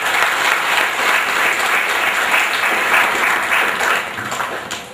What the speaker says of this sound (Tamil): நல்ல ஒரு கரகோஷத்தை கொடுக்குமாறு கேட்டுக்கொள்கிறேன்.